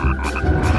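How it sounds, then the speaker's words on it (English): A wood frog croaks in a short, raspy, duck-like burst over a dense, low, continuous background. "Our number 2 most fascinating amphibian is the wood frog"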